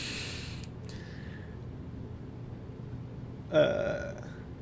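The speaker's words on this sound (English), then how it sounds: "He belches and lays himself unconscious." A single short burp rises out of quiet background near the end, after a brief faint sound at the start.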